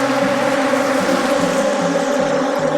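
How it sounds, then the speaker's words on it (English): Agitated honeybees swarm around open hives in a bee yard, a dense continuous buzz with wavering pitch, close and fairly loud throughout with no voices. "as riled up as the bees are in this bee yard"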